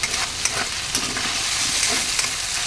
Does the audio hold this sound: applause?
no